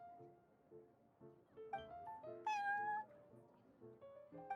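Prince, a cat in the Genshin Impact game, meows several times in a tuneful, rising way. The meows sound over soft game background music, with one louder, higher meow near the middle.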